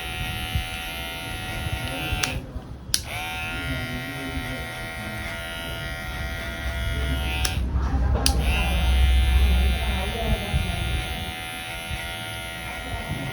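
Electric hair clipper machine hums steadily and close while cutting hair, a continuous buzz broken by two brief cutoffs, with no talking.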